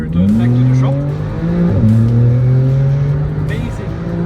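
A Porsche fitted with upgraded performance brakes on a test drive: loud, close engine note climbing steadily, a brief dip and shift near the middle, then pulling hard again, with faint voices underneath.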